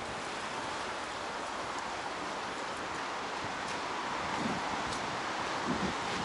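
Strong wind roars steadily outdoors in a lakeside park in Zurich, buffeting the microphone with a constant broadband rush and occasional gusts.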